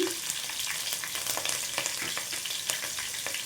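Green chillies and curry leaves fry in hot oil in a pan, giving a dense, continuous crackling sizzle with faint stirring clicks, close and steady, with no voices.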